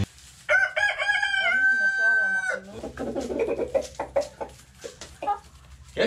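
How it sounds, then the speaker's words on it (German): A rooster crows once, loud and close, in a henhouse in the Saarland countryside, a long rising call followed by hens clucking and soft scratching nearby. "das ist der berühmte Hahn im Lockruf."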